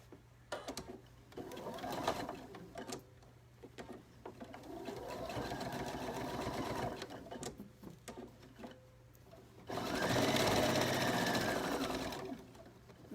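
A sewing machine stitches fabric for a children's t-shirt dress in several close, buzzing runs of varying length, separated by brief pauses and handling sounds, with the longest, loudest burst near the end.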